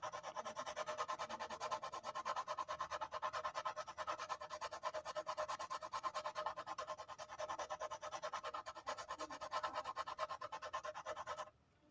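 Graphite on paper being rubbed and shaded with a rough wooden board, a steady continuous gritty scraping texture that runs evenly and close for the whole stretch, stopping abruptly at the end, no voices.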